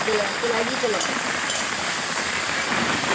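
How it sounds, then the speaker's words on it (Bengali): Steady rain falls outdoors near a river, making a soft, continuous hiss with faint speech underneath. "বৃষ্টি শুরু হয়ে গেছে"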